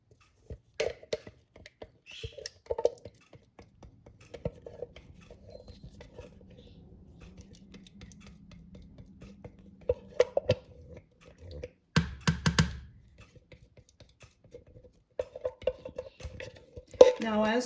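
Canned crushed tomatoes go into a soup pot with Lipton soup mix and vegetables, then get stirred: close, intermittent clatters and scrapes of a spoon against the pot, with quieter stretches between bursts.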